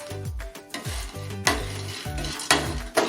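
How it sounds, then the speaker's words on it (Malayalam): Peanuts with dried red chillies and a small piece of tamarind roasting over low flame in a pan, stirred in repeated scraping strokes with soft sizzling and clattering between them, close and with no talking. "എന്നാൽ വളരെ ലോ ഫ്ലെയിമിലാണ് ഇത് വറുത്തെടുക്കുന്നത്"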